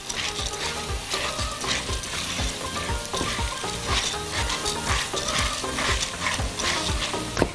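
Pasta browns in hot oil in a pan, a loud, close, continuous sizzle layered with rhythmic scraping and clattering from steady stirring; no talking.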